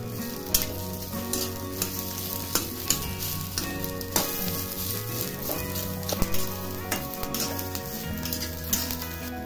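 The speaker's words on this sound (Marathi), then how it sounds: "त्यामध्ये आता कांदा पण टाकायचा आहे. सगळं एकत्रच भाजून घ्यायचं आहे." Onion, green chilli and coconut roast together in a pan, sizzling and crackling loudly with frequent scrapes and knocks of a stirring spoon against the metal, close up with no speech.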